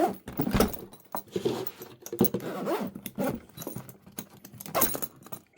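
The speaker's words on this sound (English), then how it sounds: "Still zips up one-handed." Veto electrician's tool bag zipped shut one-handed, a run of short raspy zipper pulls with faint clinks of tools shifting inside, close and moderately loud with no voices.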